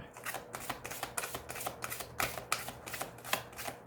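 Tarot cards shuffled and laid down during a reading, a rapid series of crisp riffling and slapping card sounds close by, repeating in quick bursts with no talking.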